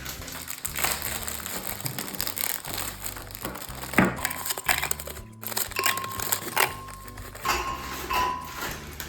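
Packaged biscuits being unwrapped and dropped into a blender for a cheesecake crust: crinkling plastic and crunchy clatter with a few sharp knocks, close and moderately loud.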